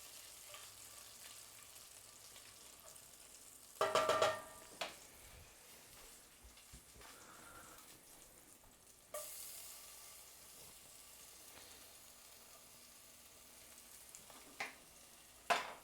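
Shallots slightly burning as they fry and sizzle in a pan, a low steady hiss with a few louder bursts of stirring and clatter, no talking.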